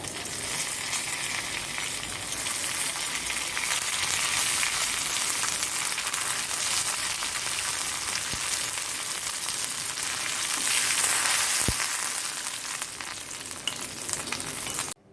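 Mustard seeds, chopped ginger, chillies and curry leaves fry in coconut oil for an Onam ginger curry, making a loud, steady hiss and crackle that runs unbroken, with a couple of sharp pops.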